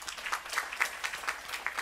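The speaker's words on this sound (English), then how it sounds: "give them a round of applause" A short burst of audience applause at a Sunday satsang gathering, many hands clapping in a scattered, moderately distant patter.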